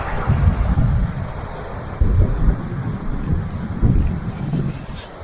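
Strong mountain wind buffets the microphone high on the Bali Pass trek. It comes as loud, roaring gusts that surge about every two seconds, with no voices.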